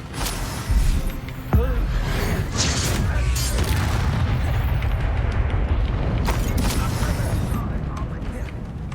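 Incendio fire spell cast in the Hogwarts Legacy video game, a sudden booming burst followed by a sustained roaring, crackling rumble of flames and combat effects, loud and dense for several seconds.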